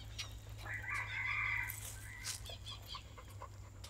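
Dog panting quietly in a home setting, soft rapid breaths over a low steady hum, with a faint higher-pitched squeal or whine in the middle; fairly distant and low in volume, no talking.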